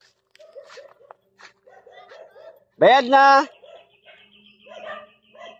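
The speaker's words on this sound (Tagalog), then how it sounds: "Tayo ng aso. Kasi may daming aso." At a residential gate where many dogs are kept, a dog lets out one loud, close, drawn-out bark in the middle of an otherwise quiet stretch, while people speak briefly before and after.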